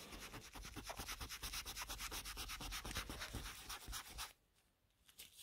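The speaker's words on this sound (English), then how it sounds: "Blending paper back out again." Blending stump rubbing on drawing paper while pencil shading, a close, rhythmic scratchy scrubbing in quick back-and-forth strokes that stops abruptly near the end, followed by brief faint rubs.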